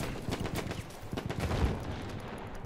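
Rapid bursts of gunfire from the Battlefield 1 multiplayer video game, a dense crackle of overlapping shots and impacts continuing steadily at moderate loudness with no talking.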